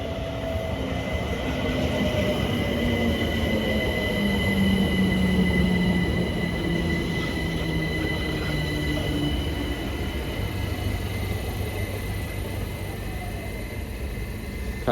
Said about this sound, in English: arriving in now is 378 140, bound for Clapham Junction from Dalston.